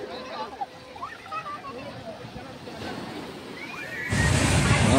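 Ocean surf washes over sand at Kanyakumari beach at sunset, with wind and people's voices and bird-like calls over a steady wash that surges louder as a wave breaks near the end.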